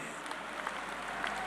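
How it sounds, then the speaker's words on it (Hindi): Applause for a state party president at a political rally rises as a steady, moderately loud patter of many hands that stays even for a second and a half. "एक बार प्रदेश अध्यक्ष के लिए भी ताली बजाएं"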